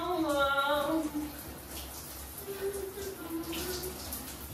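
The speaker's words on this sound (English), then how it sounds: "I'm taking a shower for about an hour." Shower water runs steadily with a broad hiss and splash, fairly close and continuous, while a voice briefly sings or hums over the start.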